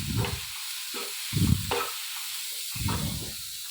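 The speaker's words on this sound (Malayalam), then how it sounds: "ഇനി ഇതൊന്ന് ഇളക്കിയെടുക്കാം." A mixture of wheat flour and fruit being stirred in a pan at home, giving several short scraping, sizzling bursts in an uneven rhythm with quiet gaps between, close and fairly soft.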